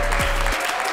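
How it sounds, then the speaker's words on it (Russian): Audience applauding loudly at a live entertainment show, steady dense clapping filling the whole moment without pause. "под ваши бурные аплодисменты"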